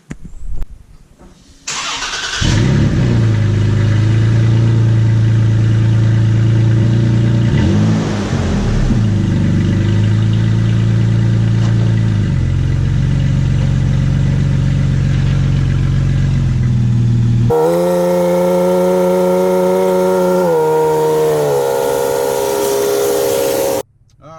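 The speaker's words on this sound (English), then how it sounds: "We're going to start off with a cold start to pull it out of the garage." A Toyota Tacoma fitted with an MBRP exhaust cranks and fires on a cold start, settling into a loud, deep, steady idle with a brief rise in revs, then the tone shifts higher toward the end; no one speaks.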